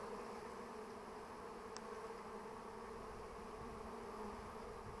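A honeybee swarm clustered along a tree log, a dense, steady hum of many bees buzzing, faint and continuous with no voices.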